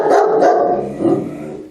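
A German Shepherd barks at other dogs in a loud, continuous run of overlapping barks and growls, heard up close with no pauses.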